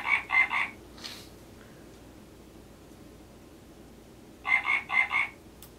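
Electronic frog croaks from a toy Operation board game, a quick burst of three or four ribbety chirps, a long quiet pause with faint room noise, then another near, loud run of four croaks.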